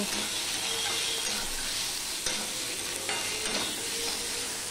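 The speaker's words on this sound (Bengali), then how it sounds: "দিয়ে সম্পূর্ণটা মিশিয়ে নিয়ে আমি একটুখানি কষিয়ে নেব, মিনিট খানিক কষিয়ে নেব।" Fish curry mixture with chopped tomato and green chillies stir-fried in a pan, a steady close sizzle with occasional scraping strokes, no voices.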